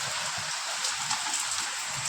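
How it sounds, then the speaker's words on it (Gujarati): Rain falls steadily, a dense even hiss with no breaks, and a few faint low rumbles stir underneath. "જો હવે આવ્યો વરસાદ"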